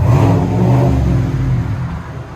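A 2021 GMC Sierra AT4 pickup with its 6.2L V8 and Flowmaster Super 10 exhaust revs loudly and close, one sustained throaty climb that eases off toward the end, with no talking.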